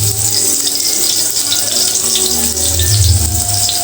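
Chopped onion and garlic frying in oil for a Bengali papaya ghonto, a loud steady hiss and sizzle running continuously throughout with no talk.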